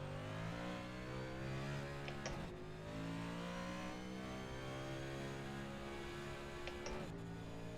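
A Next Gen stock race car in the iRacing simulator howls at high revs, a loud, steady engine note with two brief dips and climbs as gears or throttle change.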